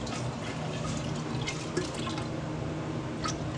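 Home-brewed beer sample poured from a cup into a jar, a steady close liquid trickle and splash lasting a few seconds with no talking.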